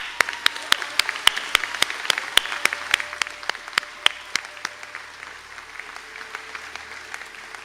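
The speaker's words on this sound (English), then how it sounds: "if we could have a round of applause for those candidates" Clapping at a college conferring ceremony for graduating candidates, a sparse round of individual claps in a hall with sharp separate hand strikes, louder at first and thinning out over several seconds.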